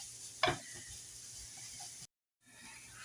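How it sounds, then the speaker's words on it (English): Onions caramelizing in olive oil in a pan give a steady, soft sizzle and hiss, with a brief sharper crackle early on and a short gap of silence. "So I'm caramelizing these onions up, just getting them softened up and toasted a little bit."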